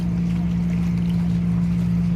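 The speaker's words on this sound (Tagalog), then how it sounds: "Ano, lalaking bangka mga bossing" A large boat on the water in the Philippines gives off a steady low engine drone with a constant hum and faint wash, close and unchanging over a couple of seconds.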